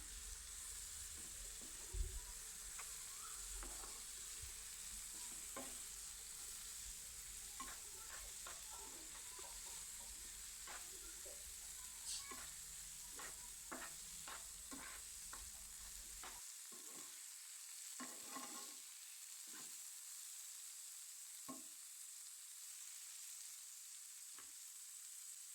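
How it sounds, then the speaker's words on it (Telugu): Chopped tomatoes stirred into hot oil in a pan give a faint, low sizzle with scattered soft scraping clicks, quiet throughout and without speech. "ఇందులోకి కట్ చేసి పెట్టుకున్న టమాటోస్ వేయండి. మళ్ళీ ఒకసారి కలుపుకోండి."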